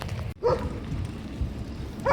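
A dog gives a couple of short, sharp barks at moderate distance, separated by a brief pause amid low background noise.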